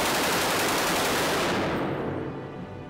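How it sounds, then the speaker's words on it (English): A machine gun fires a sustained, dense burst at a range target, loud and close, then cuts off and the sound rings away. "Just to feel the power of the machine gun"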